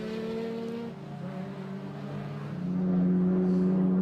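A race car at Croft Circuit during a 750 Motor Club meeting drives past on track, its engine a steady loud drone that dips briefly, then swells louder and higher as it comes through near.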